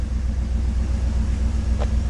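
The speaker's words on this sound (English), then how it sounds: "The engine's warming up." A freshly swapped 350 V8 in a 1990 GMC truck with a Cummins exhaust tip idles close by after its first start, a loud, steady, low rumble that throbs evenly.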